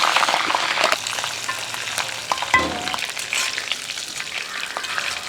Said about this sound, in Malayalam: അപ്പോൾ ഇത് ഫ്രൈ ആയിട്ടുണ്ട്